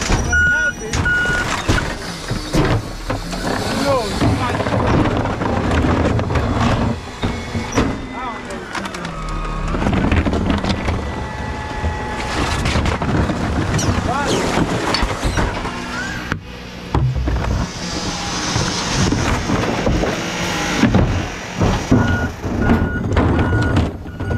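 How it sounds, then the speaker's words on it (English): Repeated reversing beeps from a backing garbage truck on a trash pickup route ring out steadily over engine rumble, with people talking nearby throughout. "Ain't no way this truck getting backed out already"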